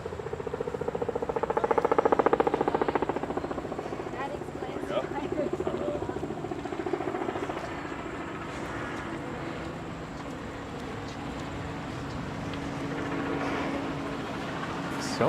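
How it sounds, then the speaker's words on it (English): Helicopters pass over Central Park in New York City, a low continuous rotor drone that swells early on and then fades into a steady distant hum, with park ambience and voices talking over it. "So many helicopters today."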